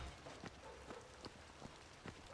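Rain falls steadily in the Cityconomy video game, a dense even hiss with scattered soft droplet taps throughout, no voices present.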